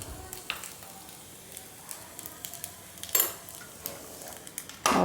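A semolina snack roasts in ghee on a pan over a low flame, giving a faint, steady sizzle with scattered clicks and scrapes of a utensil, and a louder scrape near the end.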